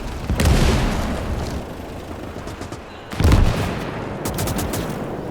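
Gunfire and explosions in the World War II multiplayer game Call to Arms: Gates of Hell, with two heavy booming blasts over steady rattling battle noise, loud and close, and no talking.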